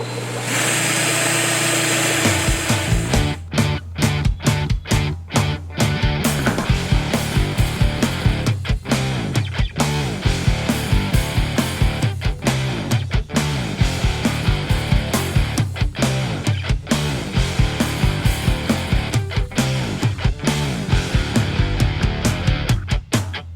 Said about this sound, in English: we're going to drill a couple holes in our pretty little sump